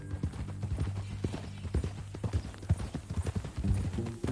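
Horse hooves clip-clop steadily in the Western video game Red Dead Redemption 2, an even walking rhythm that is close and clear throughout, with faint mechanical clinks alongside.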